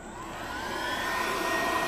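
A KKSEVENS 1300W magnetic induction heater switching on, a steady whooshing fan-like whir with a faint rising whine that swells slightly, close and continuous with no talk.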